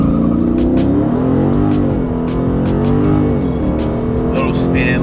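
A Dodge Charger Daytona 392 V8 is held at raised revs with a loud, wavering drone while people talk over it, building toward a launch.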